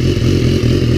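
A 2017 BMW S1000R motorcycle with an aftermarket exhaust rumbles loudly and deep at close range, its throaty exhaust steady through a brief second of idling.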